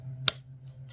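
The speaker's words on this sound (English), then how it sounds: "I'm going to snip and give ourselves about an inch." One crisp snip as wire cutters cut through craft wire for a wire wrap cabochon, a single sharp click close up over a low steady hum, followed by faint small rustles.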